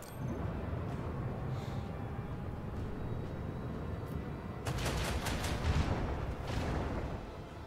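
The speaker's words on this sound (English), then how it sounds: "Fire at will. Torpedoes, away!" Torpedoes fire in Warhammer 40,000: Rogue Trader, a rumbling launch followed by a rapid burst of booming blasts over a constant low roar, moderately loud.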